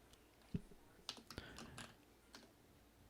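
Keys on a computer keyboard are tapped in a short, irregular burst of quiet clicks, close and faint, with no one talking.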